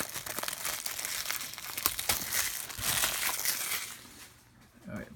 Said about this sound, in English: Get rid of this plastic.